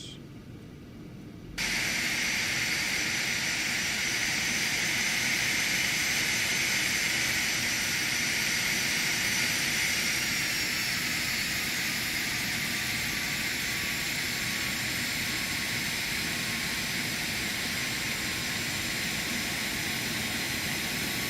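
A simulated aircraft in an Aerobask flight simulator powers up for takeoff, a steady broadband engine roar and rushing noise rising abruptly after a quiet start and holding loud and constant for the rest of the run.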